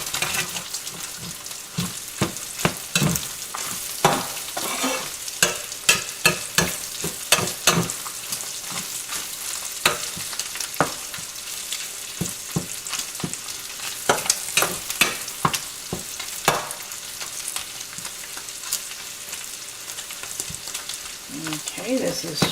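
Sausage frying in a pan for sausage gravy, with a steady sizzle broken by repeated scraping and stirring strokes from a utensil, close and fairly loud, no talking.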